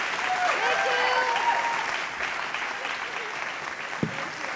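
Audience applause at a benefit concert after a singer's set, with steady, dense clapping across the hall and a few whistles over it. The applause eases slightly toward the end.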